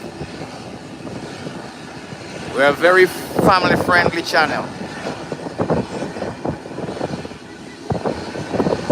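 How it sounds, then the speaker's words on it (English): Propeller airplane flying toward Grand Turk, a steady engine drone underneath a person talking in the foreground for most of the stretch. "this plane is heading to the nation's capital, Grand Turk"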